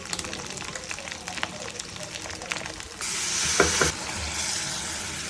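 Ginger and garlic sizzle in a pan with a steady broadband hiss and occasional utensil scrapes; the frying grows louder partway through, and no one speaks.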